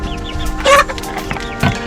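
Backyard chickens cluck nearby in short, overlapping bursts, with a louder squawk in the middle and brief rustling between calls.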